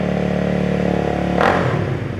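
A 2017 Honda Rebel 300 fitted with an aftermarket exhaust idles steadily, then gets a quick sharp rev that rises and falls back fast, close up with no talking.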